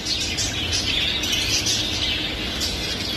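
Lovebirds in an ornamental bird shop chirp continuously, a dense, steady chatter of many small birds close by with no talking.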